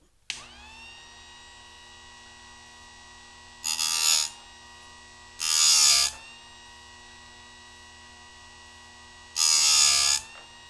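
A Harbor Freight electric chain sharpener hums steadily as its wheel spins, and three short bursts of harsh, loud grinding come as the wheel bites into the saw chain's teeth.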